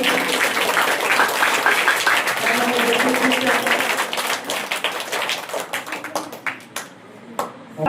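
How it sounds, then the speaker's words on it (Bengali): Audience applause at a student award ceremony at Trimohini Wais Academy. Dense, loud clapping from a crowd continues for several seconds, then thins out into scattered claps before fading. "জোরে হাততালি দিন।"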